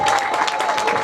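Loud, continuous applause from a crowd at a 40th birthday celebration, dense clapping sustained evenly throughout with no pauses.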